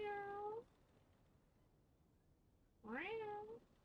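A pet cat named Rusty gives two distinct meows, one at the start and a rising, louder one near the end, with quiet room noise in between and no talking.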